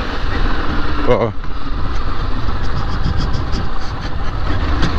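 Honda CG 160 Fan motorcycle engine with a strange noise, a close steady low rumble running throughout, with someone speaking briefly over it.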